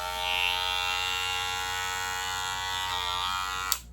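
A Wahl Super Taper X electric hair clipper buzzes steadily and fairly loudly up close, a continuous whirring hum that ends with a small click.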